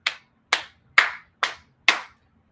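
A single person claps five slow, sharp, evenly spaced times, each crisp clap close and distinct with silence between, on a call for a round of applause during a cloud talk.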